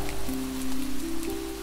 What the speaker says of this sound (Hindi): आज बहुत दिन बाद सुनी है बारिश की आवाज